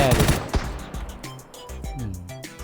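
Rapid bursts of automatic gunfire from a PUBG match, loud and close, with repeated sharp shots fading into lighter trailing reports.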